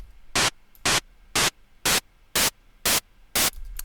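Synthesized hi-hat built from noise with its pitch raised, seven bright hissy bursts at a steady pulse about every half second over a low background hiss, with no voices.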